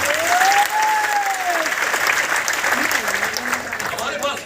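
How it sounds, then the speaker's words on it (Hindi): Loud, sustained applause from an audience at a product seminar in Ludhiana, Punjab, a dense wash of clapping filling the whole stretch while a voice speaks faintly over it. "एक बार तालियां बजा दो जोरदार"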